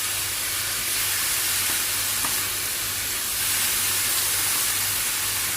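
Vegetables sautéing in a pan with soy sauce for a Chinese-style samosa and roll stuffing, giving a steady, even sizzle and hiss throughout with no talking.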